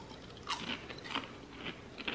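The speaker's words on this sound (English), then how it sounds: "Again, they're all crunchy." Carnivore pork crisps, crunchy meat chips, are bitten and chewed close up, giving several sharp, crisp crunches in an uneven rhythm with no talking.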